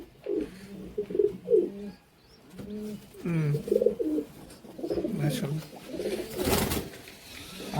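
A female Kaldom pigeon coos in repeated throaty, rolling bursts close by, and a person's voice briefly joins near the end.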